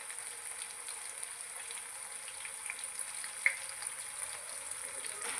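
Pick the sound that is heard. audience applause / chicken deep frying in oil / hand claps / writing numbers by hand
chicken deep frying in oil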